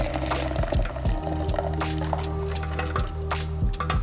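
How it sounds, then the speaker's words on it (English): Homemade drink poured from one container into another, a steady close liquid stream with small splashes and clunks over a constant low hum. "So I literally just pour in another container like this."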